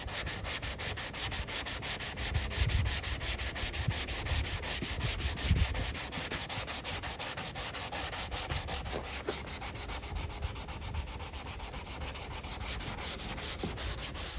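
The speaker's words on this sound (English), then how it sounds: "it was causing my sanding block to glide from here to here" A sanding block scrapes back and forth over primed body filler on a Plymouth Scamp car body in quick, steady strokes, a close rasping rub that continues without any talking.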